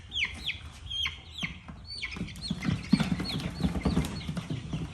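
Young chicks and hens of copper Marans stock cheep and cluck while being moved from a brooder into a coop during a thunderstorm, repeated short chirps over a steady background of rain-like noise, without talk.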